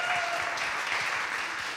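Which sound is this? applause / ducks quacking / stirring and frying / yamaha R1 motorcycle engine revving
applause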